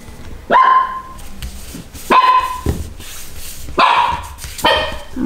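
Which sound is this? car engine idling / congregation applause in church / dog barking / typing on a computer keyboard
dog barking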